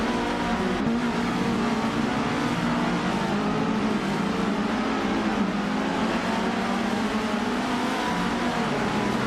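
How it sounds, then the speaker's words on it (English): A 1981 Metalex MTX 106 race car in a video game, its engine droning steadily and loudly throughout, a continuous close roar with slight pitch shifts and no voices. "Bethralina is in 8th place, driving a Metalex MTX 106 from 1981"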